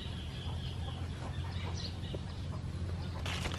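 Chickens cluck and murmur on a farm in the Philippines, a soft, steady flock chatter under low background noise, with a brief louder burst near the end.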